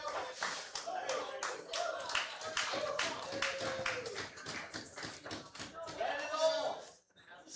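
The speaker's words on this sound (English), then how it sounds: "his crowd over there cheering him on" A crowd at a pool tournament claps and cheers for a player, with a dense patter of applause running throughout and a commentator talking over it.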